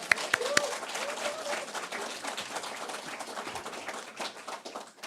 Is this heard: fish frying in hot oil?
no